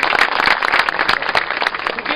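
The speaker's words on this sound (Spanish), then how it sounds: "Palmas para el Señor." Crowd applause rings out during an outdoor Sacred Heart of Jesus religious procession in Surquillo, Lima, a loud, continuous patter of many hands with a faint murmur of voices.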